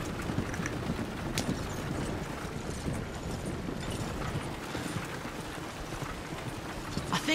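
Horse hooves clip-clop steadily along a road in the video game Red Dead Redemption 2, a continuous rhythmic patter of close, moderately quiet hoofbeats.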